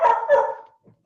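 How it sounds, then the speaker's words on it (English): Two loud, close dog barks in quick succession from a dog waiting for its dinner indoors, followed by a faint short whine, with no talking. "I think that's the dog wanting his dinner."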